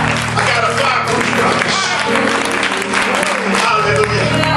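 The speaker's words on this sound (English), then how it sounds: "Clap your hands and give God glory" A church congregation claps loudly and continuously during a preached sermon, a dense wash of hand claps mixed with voices and music filling the room.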